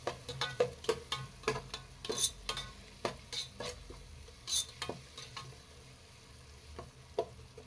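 Green chillies sautéing in a pan for Dindigul-style seeragasamba biryani: a steady sizzle runs throughout, broken by frequent sharp scrapes and taps of a spatula stirring, close and moderately loud, with no talking.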